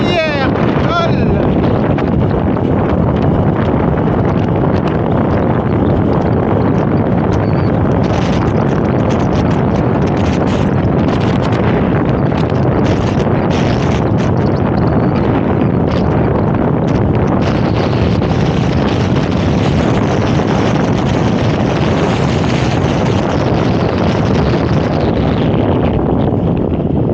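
Strong wind buffets the microphone outdoors at Timanfaya park on Lanzarote, a loud, continuous roar that swells and fades throughout and drowns out other sounds.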